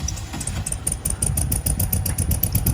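A 1967 Volkswagen engine runs at a steady, rough idle, loud and close, with a chattering, uneven beat and faint high whine above, and no voices.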